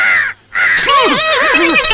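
A crow caws loudly several times in quick succession, harsh calls rising and falling close by, after a brief silence at the start.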